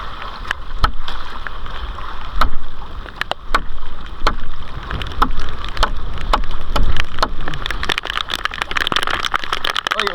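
Rain beats down on a small fishing boat at sea during a lobster catch, loud and near, with sharp irregular taps and splashes over a rushing wash of wind and water.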